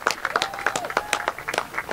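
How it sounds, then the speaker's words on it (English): Scattered, fairly light clapping from a small audience in a church at a wartime Blitz-themed singalong, sharp individual claps in a loose rhythm with faint background sounds. "Give yourselves a round of applause."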